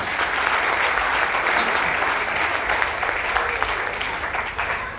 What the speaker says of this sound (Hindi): एक बार अपने लिए जोरदार तालियां बजा लें।